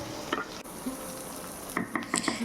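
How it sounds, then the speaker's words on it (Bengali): A medium onion fries in a pan on low heat, a soft steady sizzle broken by a few scraping stirs of a utensil against the pan near the end. "এখন দিয়ে দিচ্ছি একটা পেঁয়াজ মিডিয়াম সাইজের, অল্প একটু রং ধরা অবধি ভেজে নিচ্ছি।"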